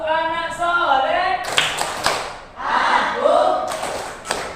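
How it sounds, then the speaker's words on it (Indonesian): A classroom of pupils clap out the rhythmic 'tepuk anak soleh' chant in loud bursts of several quick claps, with children's chanting voices between and over them. "Tepuk anak soleh."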